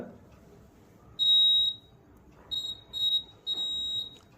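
A homemade laser security alarm built around an LDR light sensor sounds in shrill, piercing electronic beeps, one long tone and then several shorter bursts in quick succession, close and loud against a quiet room.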